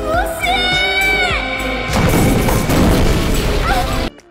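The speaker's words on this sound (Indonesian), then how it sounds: "Ledakan ini meledak sangat besar." Explosion in a monster-hunting fantasy film tears through a house with a loud sustained crash and rumble, following a woman's high scream and music.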